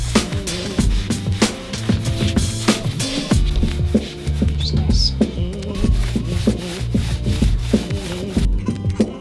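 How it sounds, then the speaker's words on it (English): Wooden windows being sanded: close, continuous rhythmic rubbing strokes with a steady cadence and a faint background hum, no speech. "So we're sanding the windows"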